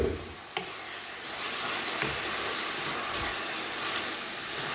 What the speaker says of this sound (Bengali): কেবিজ ভাজি আমার দেখেন হয়ে এসেছে কাছাকাছি